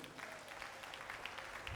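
Worshippers clapping during a Sunday church service, a brief dense burst of applause at moderate loudness, with faint voices mixed in.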